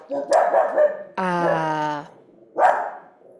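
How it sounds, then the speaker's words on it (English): A pet dog barks loudly and close by at a child's balloon: a few sharp barks, then a long drawn-out howling whine, then another bark. "my dog is barking at it"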